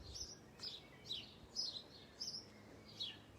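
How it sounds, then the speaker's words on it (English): Birds chirp and tweet outdoors in a steady series of short, bright calls roughly every half second, moderately close over a quiet background, with no talking. "listening to the birds chirp"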